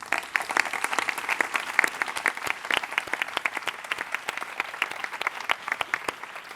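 Audience applause at the presentation of a cultural rights plan, a steady crowd of sharp overlapping claps, fairly close and moderately loud, holding evenly throughout with no voices over it.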